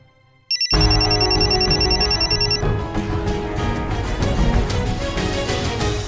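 A telephone rings loudly and continuously, a repeating electronic ringtone close up, heard alone with no voices.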